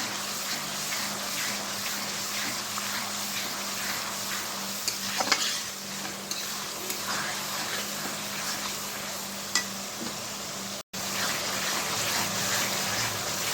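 Ginger sautéed with garlic and stirred in a pan for a mutton and potato curry: a soft, steady sizzle with occasional scraping stirs, fairly quiet and without talk.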